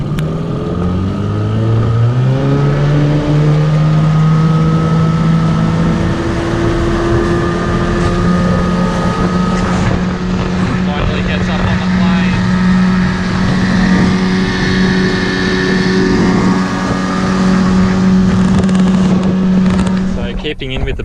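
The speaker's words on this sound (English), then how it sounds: "a new motor, as you can see, Johnson 8 horsepower" A Johnson 8 horsepower outboard boat motor running steadily on the water, a close, continuous buzzing drone that rises in pitch early on and then holds a constant tone.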